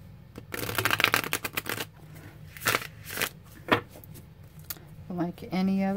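Santa Muerte limited edition tarot cards being shuffled, bursts of crisp riffling and flapping close by, with stretches of quieter handling and a short tonal sound near the end.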